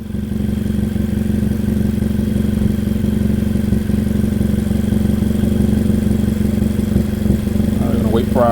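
A Mazda CX-5 2.0 engine with a cylinder 3 misfire runs at a steady idle, heard up close as an even, continuous hum. A brief clatter comes near the end.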